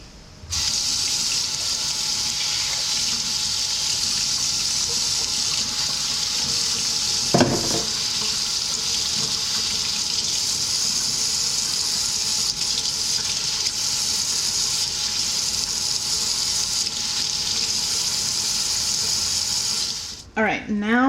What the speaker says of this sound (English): Now, I need to rinse the butter.